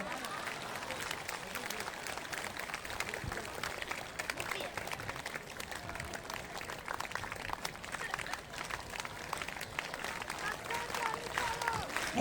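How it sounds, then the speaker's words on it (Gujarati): Devotees at a religious gathering clap along in a steady rhythmic patter beneath chanting and talk, the clapping moderately loud and continuous throughout. "પણ તાળી પાડો"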